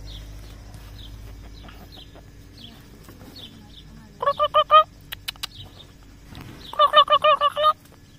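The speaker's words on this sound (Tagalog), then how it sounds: "Oh, look, the chickens." Chickens cluck and squawk in short rhythmic bursts in a backyard vegetable garden in France, two clear clusters standing out against a quiet outdoor background.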